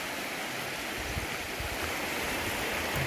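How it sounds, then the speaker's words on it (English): A small rapid on the Gardner River rushes in a steady, dense wash of flowing water, close and continuous with no voices. "And a nice little rapid."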